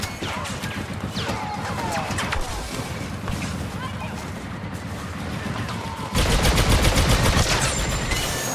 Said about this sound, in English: Throwing grenade! Turret ready.